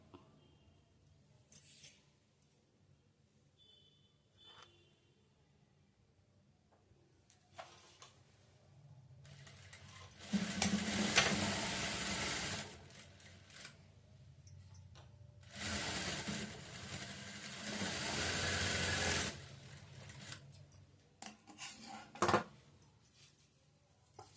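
A sewing machine stitching a hook strip onto a work blouse runs in two sustained bursts of steady whirring, with quiet handling noises between.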